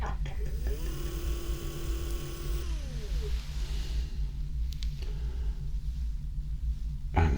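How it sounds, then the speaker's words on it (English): Dr. Eggman's mean bean machine gives off a steady low electrical hum with rumbling, while a rising and falling whine sweeps through it, then settles into a softer drone. "Computer, bring me my mean bean machine"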